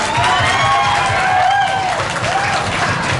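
A studio audience claps loudly and steadily throughout, a dense, continuous wash of applause with some cheering and whistling mixed in, holding the same level from start to finish.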